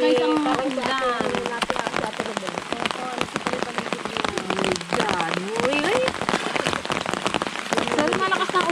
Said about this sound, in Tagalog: Pero malakas na ulan